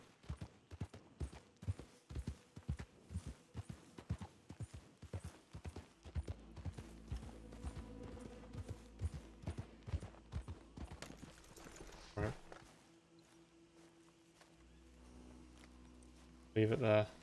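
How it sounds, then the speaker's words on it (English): Horse hooves clip-clop in the video game Red Dead Redemption 2, a steady run of sharp, evenly spaced hoofbeats carrying through most of the stretch, joined midway by a low rumbling background and a brief louder burst near the end. "I can see there's a guy on a horse there."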